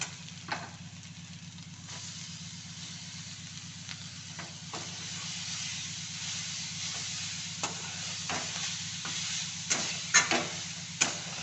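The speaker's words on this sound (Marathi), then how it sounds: "हळद हिंग आपण चांगलं मिक्स करूया आणि आपला किसलेला मुळा आहे ना तो पण याच्यात लगेच टाकूया आपण आता" Grated radish fried in a pan with turmeric and asafoetida gives a quiet, steady sizzle, with a few light clicks and stirring taps that grow denser toward the end.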